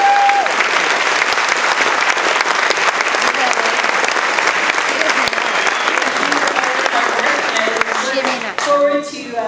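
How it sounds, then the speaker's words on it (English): Sustained applause from the audience at a community awards banquet, dense steady clapping at full loudness for most of the stretch, fading near the end as a voice begins speaking. "Round of applause for everyone."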